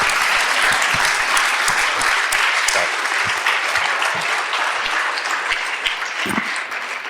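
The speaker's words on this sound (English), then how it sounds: "You deserve the applause." Sustained audience applause at a panel discussion about government, many hands clapping loudly and evenly throughout, fading slightly toward the end.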